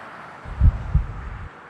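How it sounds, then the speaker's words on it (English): Video game heartbeat sound effect from Chaos;Head Noah: two dull, low thumps about a third of a second apart, muffled and close over a soft rumbling bed. "Heart rate skyrocketed."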